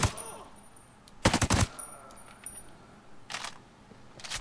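A tank firing in the game Ghost Recon Breakpoint, a heavy blast near the start, then two shorter later bursts, over a quiet game background with no talking.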